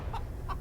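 Chickens give two brief clucks about a third of a second apart over a low, steady background hum.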